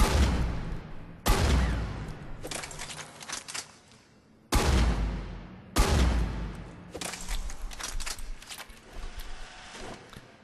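A Raider shotgun in Mass Effect 3 fires at a practice target, with four loud, sharp blasts, each followed by a decaying rattle and echo, spaced a few seconds apart and heard alone.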